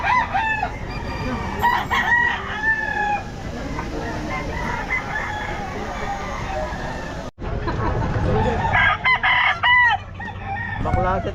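A rooster crows several times amid a busy farmyard at a pet market, with other chickens clucking and faint voices in the background.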